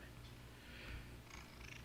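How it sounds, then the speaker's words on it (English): A cat purrs softly in the background, a faint, steady low rumble that carries through the whole stretch with slight swells, sitting under a quiet indoor room tone. "you might hear a little purring in the background from time to time"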